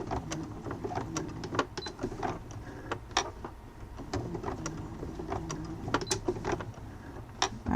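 A sewing machine fitted with a zipper foot stitches a second seam on a multifunction wallet. Short bursts of motor whir and clicking needle strikes come close together in an uneven, stop-start rhythm.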